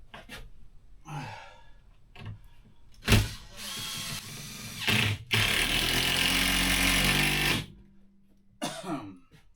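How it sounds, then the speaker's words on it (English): Power drill driving screws into a wooden frame for a gothic arched chicken run, several short whirring bursts and one long steady drive, with breathy gasps and rustling between them. "I just need to finish putting a few more screws into it."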